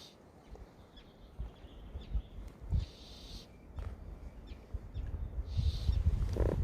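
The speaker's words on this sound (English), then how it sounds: "Leave me alone, you damn seagull thing." A seagull calls by a lake in a trout fly-fishing video game: two or three brief, faint cries rise over a rustling, shuffling background with no speech.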